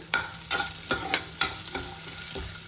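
Onion drops into hot oil already crackling with fennel seeds, cinnamon, ginger and garlic, giving a steady close sizzle broken by sharp stirring scrapes and pops, with no talking.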